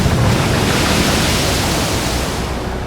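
Rolling ocean waves on the Arabian Sea as an audio drama sound effect, a dense, loud, continuous wash of surf noise that swells slightly early and eases off toward the end, with no voices.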